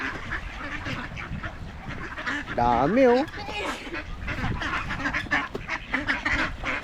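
A flock of ducks quacking loudly and continuously at feeding time near water, close by, with people talking over the noisy chatter.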